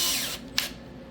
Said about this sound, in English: I'm going to drill small holes all the way around.